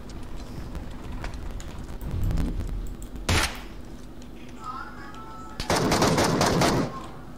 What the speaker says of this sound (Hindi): अरे तो गोलियां पै रही हैं यार।